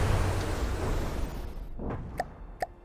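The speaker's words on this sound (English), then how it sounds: "Huge explosion." A deep, rumbling blast in the game From the Depths fades out over a couple of seconds, followed by two short sharp pops.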